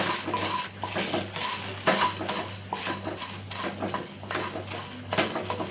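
Coriander seeds and dried chillies being dry-roasted golden in a pan over a low flame, with a spoon stirring and scraping against the metal in steady repeated strokes, close and moderately loud, alongside faint background clinks.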